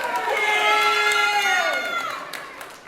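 Audience at a campus student candidates forum erupts in cheering and high-pitched whoops, a loud sustained burst that gradually fades over about three seconds.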